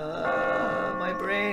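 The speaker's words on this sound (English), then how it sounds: "Oh, the bell is in sight. Well, hearing distance." Sustained bell-like ringing tones in the video game Catherine, a steady layered chime held for a couple of seconds at moderate level with some musical background.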